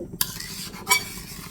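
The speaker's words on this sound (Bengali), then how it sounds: "জলটা দিয়ে এখন একটু নেড়ে ছেড়ে দিচ্ছি" Spiced radish and vegetables simmer with hot water in a pan as a spoon stirs them, two quick close scrapes over a low bubbling sizzle, with no talk.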